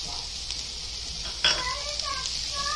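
Chopped capsicum fries in a pan, a continuous hiss with a spoon stirring it round and one sharp metallic scrape partway through.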